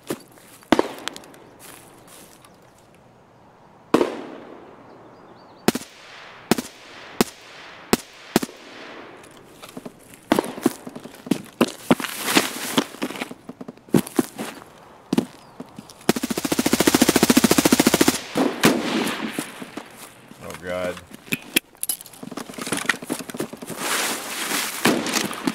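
Gunfire in Escape from Tarkov with an HK 416, heard as scattered sharp shots and short bursts, some near and loud, others distant, with a dense stretch of firing midway and footsteps in between.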